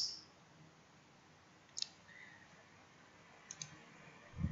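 A computer mouse clicks while hard drive tracks are being written with repair software, a few faint, separate clicks standing out against a quiet, hissy room.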